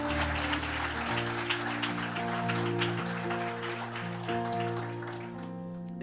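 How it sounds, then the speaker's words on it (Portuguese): A church congregation applauds steadily in a dense wash of clapping over a sustained organ or keyboard chord, continuous and moderately loud throughout. "Vamos aplaudir Jesus por isso?"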